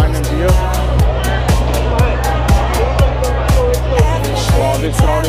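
A busy night spot in Hanoi fills with a dense babble of crowd chatter, many voices overlapping in a steady close hubbub, while a regular thumping beat from music pulses underneath.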